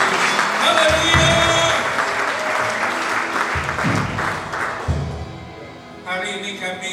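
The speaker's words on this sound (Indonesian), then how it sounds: "Berikan tepuk tangan buat Tuhan Yesus." A congregation at a Good Friday church service claps steadily and warmly, with music and a voice over the top, the applause filling the room before fading.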